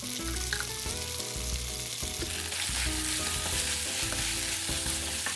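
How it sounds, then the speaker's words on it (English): Kimchi pasta with tomato pasta sauce sizzles and fries steadily in a pan, with repeated stirring and scraping. The sound is loud and continuous, with no voices. "drain the pasta and add it to the pan without rinsing"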